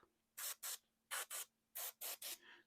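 An airbrush sprays metallic paint onto a Warhammer Predator tank model in seven short, even hissing bursts grouped in threes and pairs, close and fairly quiet.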